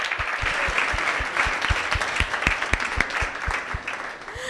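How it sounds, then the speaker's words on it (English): An audience at a university book discussion gives a warm round of applause, steady dense clapping with distinct individual claps standing out, sustained for several seconds. "A warm round of an applause"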